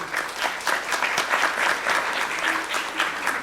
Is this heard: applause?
yes